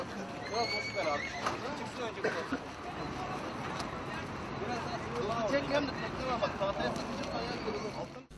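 A horse whinnies and neighs repeatedly while being hauled by a rope from between boats in a river, with people shouting and talking over the commotion close by.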